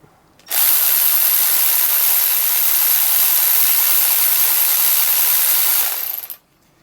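A Milwaukee M12 Gen 1 cordless ratchet with a brushed motor spins up suddenly and runs at a steady high whirring pitch for about six seconds, then stops. It is loud and close, with no talking.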